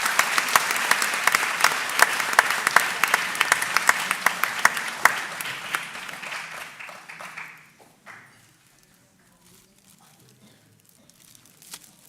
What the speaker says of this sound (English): Let's give a last round of applause for all of our scholars and our athletes.